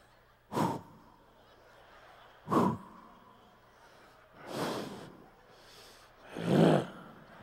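A comedian performs a vocal imitation of heavy breathing on stage: four loud, forceful breaths, the first two sharp gasps and the last two longer, rougher exhales, evenly spaced and alone with no talk.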